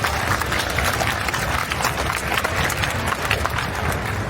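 An audience applauds a game developer on the main stage at the Play X4 game show in Seoul, with steady, dense clapping throughout and a faint voice underneath.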